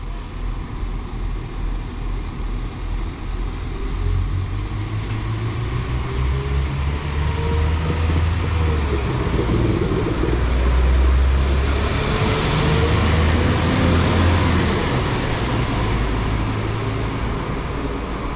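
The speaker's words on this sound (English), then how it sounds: "going out now is the slightly delayed 1349 Northern service to Leeds from Lincoln Central" A Northern Class 172 diesel unit pulls out of Lincoln Central bound for Leeds, its engine note rising and growling close by as it accelerates, with a rising whine over a deep throb that swells and holds for about eighteen seconds.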